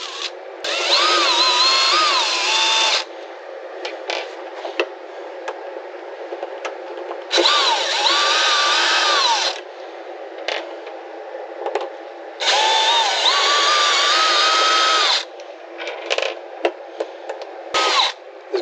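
A power drill spins in three long, loud bursts with shorter blips between them, backing self-drilling screws out of an RV window frame on an Alliance Avenue rig.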